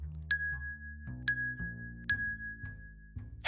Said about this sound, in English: this ritual begins with a bell ringing 3 times.